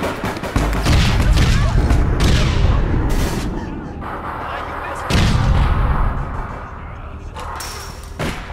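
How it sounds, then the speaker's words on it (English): Grenade launcher blasts in the game APB: Reloaded: heavy booming explosions and rumbling impacts, loud and close, with a dense barrage rolling in waves and sharp crackling bursts between them. "Grenade launcher, again."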